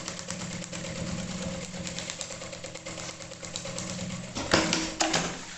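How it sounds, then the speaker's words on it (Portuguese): A sewing machine stitching a double reinforcing seam on a maternity bag: a steady close mechanical whir with rapid needle ticking, rising briefly louder near the end, with no voices. "pode até passar mais uma costura pra ficar uma costura dupla"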